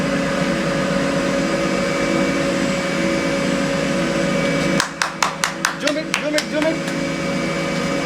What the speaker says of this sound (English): run the machine 30 kg wash extractor with towels, with full load, without foundation and making cigarette balance